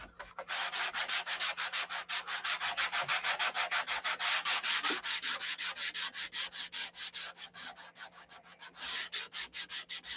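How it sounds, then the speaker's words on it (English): Hand sanding with 320-grit 3M sticky-back open-coat sandpaper, a fast, steady back-and-forth rasp of dozens of even strokes, close and moderately quiet, with a brief pause near the end. "This is 320 3M sticky back sandpaper. Gold or red open coat"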